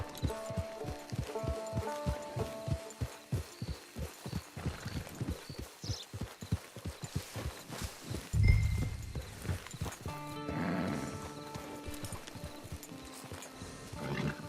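Rhythmic clip-clop of horse hooves plodding at a steady walk in the video game Red Dead Online, then a heavy thump and a snort or whinny, followed by a quieter stretch.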